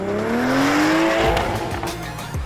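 Toyota GR Supra fitted with a UniClutch Track clutch, driven hard on a racetrack: loud engine rising in pitch under acceleration, with tire squeal and a brief skid near the end, no talking.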